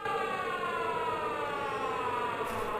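Siren wailing in the horror video game Mental Hospital 5, a loud sustained civil-defense style tone that glides slowly downward in pitch, steady and alone for a few seconds.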